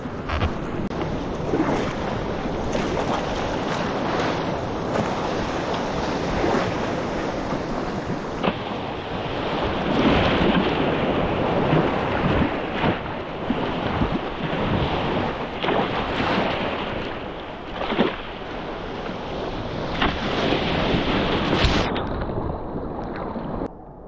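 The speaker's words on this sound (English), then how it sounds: "couldn't resist a little play in the waves" Sea waves and steady wind along a cliff coast during a sea kayaking trip, a constant loud wash of surf and gusting wind across the microphone with occasional splashes and no speech.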